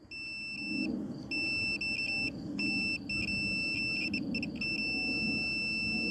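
A multimeter's continuity tester, probing the ignition coil of a 1941 Ford 9N tractor, sounds a high, steady tone in intermittent stretches that break off and resume several times over a low background rumble.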